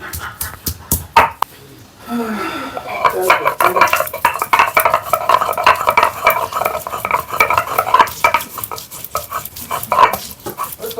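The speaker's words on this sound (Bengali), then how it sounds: "আজকে মামি শিলপাটার মধ্যে আদা রসুনগুলা বাড়ছেন" Fresh ginger and garlic ground by hand on a shil-pata grinding stone for an egg curry, a steady rhythmic scraping and grinding close by, with a dog barking now and then nearby.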